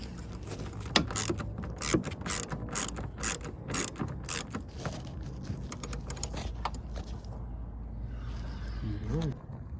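Flex socket ratchet worked on the heater hose of a Nissan Frontier, a rapid series of close, sharp metallic clicks in bursts, with someone talking intermittently over them.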